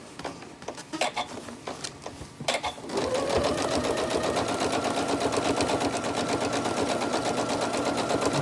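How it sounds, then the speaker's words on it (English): A domestic sewing machine stitches down the side seam of a fabric tote bag, starting after a few clicks and handling noises, then running in a fast, steady, close whir for several seconds. "I'm going to just stitch down the side"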